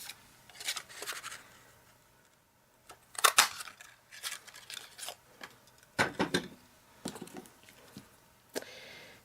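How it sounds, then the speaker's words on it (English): A 1-inch square paper punch being worked by hand, giving several sharp crunching clicks and snaps scattered through the clip, close and fairly loud against a quiet background. "A 1-inch square punch"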